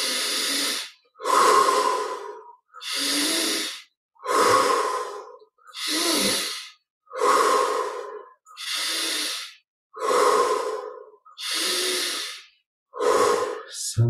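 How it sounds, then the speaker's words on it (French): Slow, deep breaths drawn in through the nostrils during a guided meditation: about ten long, evenly spaced airy inhales and exhales, close and clear, with quiet pauses between them. "Prenons plaisir à la fraîcheur de l'air qui passe par les narines à l'inspire."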